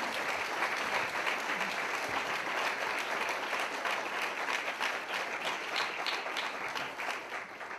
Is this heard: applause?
yes